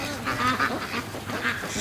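Ducks quack in short, repeated calls inside a barn where a flock of young free-range ducks is kept, close and fairly clear with no talking.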